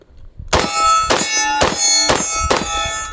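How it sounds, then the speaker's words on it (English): A bullpup rifle's bolt slams home, producing five sharp, ringing metallic clanks at an even pace, loud and close with no talk. "Your bolt release is right here."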